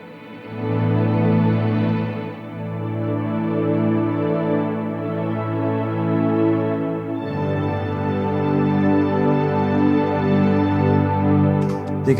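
Sustained layered synth strings from a Roland Fantom, with a gentle expression swell drawn in the sequencer rising underneath; steady, full and continuous throughout, with a brighter texture entering about halfway.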